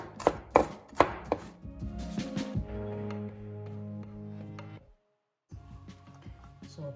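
A kitchen knife chops garlic on a cutting board while Traditional Chinese fried fish with tofu is being cooked. A handful of sharp, close, knocking strikes come first, followed by quieter scraping and clatter, then a brief silence.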